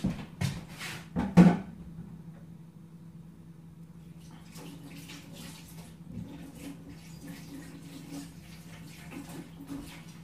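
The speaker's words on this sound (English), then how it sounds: "I'm now going to wash my hands." A tap runs as hands are washed in a kitchen sink. A few sharp splashes and knocks come first, then a quiet, steady trickle of water with soft rubbing and splashing continues close by.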